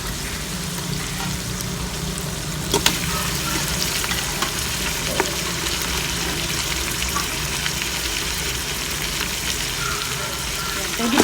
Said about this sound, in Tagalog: ilalagay ko na po yung mga buto-buto na may konting laman